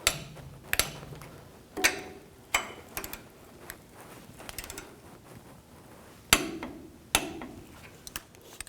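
A wrench tightens the brake caliper bolts on a Ford E-250 van, torqued to 27 foot-pounds. Several sharp, quiet metallic clicks come at uneven intervals over a near-silent background.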